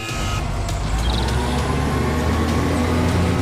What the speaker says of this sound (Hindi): गुरजीत ने अपना ट्रक निकाल लिया और पप्पू ट्रक के अंदर बैठ गया।